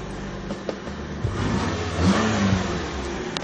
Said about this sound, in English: So I'm making a call to my car and the car has just started.